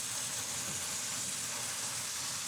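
Chicken pieces sizzle in a hot pan as a steady, dense, loud hiss that stays even throughout, close up, with no talking.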